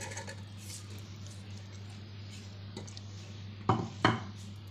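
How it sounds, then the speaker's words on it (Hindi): Finely chopping onions in a home kitchen: a few sharp knife-on-board knocks, clustered near the end, over a steady low hum. "ये दो प्याज काट लिए हमने बारीक"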